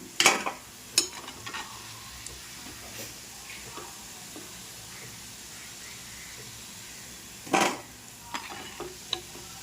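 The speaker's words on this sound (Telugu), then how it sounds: "మిగతావి కూడా అలాగనే వేసుకొని ఫ్రై చేసుకుందాం" Gulab jamun frying in hot oil in a home kitchen, a soft low sizzle throughout, broken by a few sharp stirring and utensil clinks and one louder splash of sizzling near the end.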